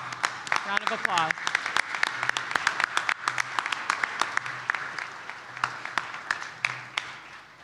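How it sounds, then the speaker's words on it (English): A crowd at the DC Fire and EMS annual awards ceremony and dinner gives sustained applause, many hands clapping in a dense, steady patter that fades slightly toward the end, with a brief voice and whistle early on. "Round of applause."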